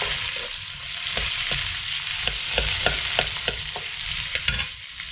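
Filipino-style chicken stew cooks in a pot with a steady bubbling sizzle, broken by repeated scrapes and clinks of stirring, close and alone.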